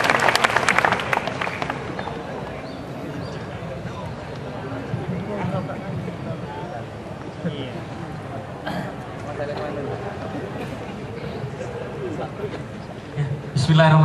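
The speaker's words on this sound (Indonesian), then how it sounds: "Tepuk tangan, tepuk tangan." An audience at an evening gathering bursts into applause, a loud flurry of clapping at first that settles into a lower murmur of crowd noise, with talk and another short rise of clapping at the end.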